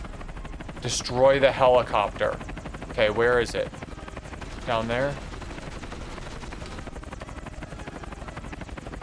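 Helicopter rotor drone and bursts of gunfire in the James Bond 007 From Russia With Love video game, set around Big Ben, running continuously under a man's brief spoken words.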